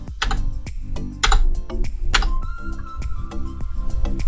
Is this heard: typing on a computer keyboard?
yes